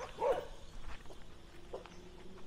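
Several dogs on a beach give a loud close bark, then a fainter one, with low murmuring in the background.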